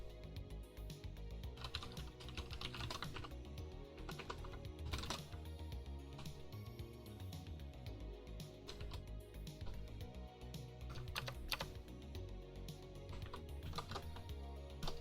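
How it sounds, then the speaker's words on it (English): Quiet, rapid typing on a computer keyboard, with a steady stream of light key clicks and occasional heavier keystrokes continuing for about fifteen seconds, faint and alone. "I keep accidentally hitting the wrong key on my keyboard."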